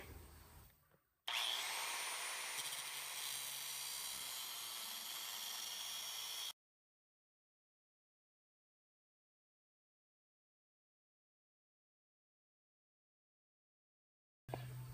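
A quarter-inch steel knife blank being cut, making a loud steady grinding whine for about five seconds after a brief start, then abrupt silence until a short burst returns at the end.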